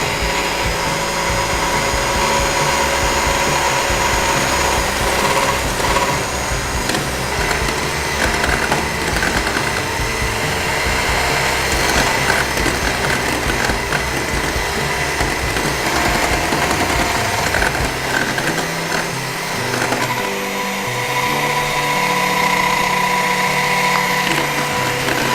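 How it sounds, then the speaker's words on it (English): An electric mixer runs steadily at medium speed while avocado oil is beaten into mayonnaise, giving a continuous loud whirring hum that shifts slightly in tone near the end, with no talk. "we're going to put our mixer onto a medium speed, and we're very slowly going to add the oil."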